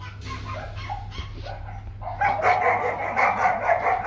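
A Rottweiler puppy gives a few short barks and yips at moderate distance over a steady low hum, with a louder stretch of barking in the second half and no talking.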